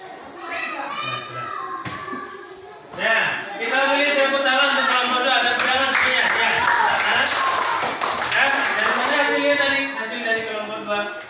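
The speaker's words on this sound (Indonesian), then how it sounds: "kita beri tepuk tangan untuk kelompok 2. Tepuk tangan semuanya" Third-grade classroom with children clapping for a group, scattered taps and claps mixed with loud children's chatter and voices throughout.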